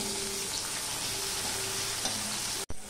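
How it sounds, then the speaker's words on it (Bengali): Steady crackling sizzle of onions, one medium and one small, frying in hot oil until reddish brown, loud and continuous, with a brief clatter near the end. "পেঁয়াজটা লাল লাল হয়ে ভাজা হয়ে গেছে"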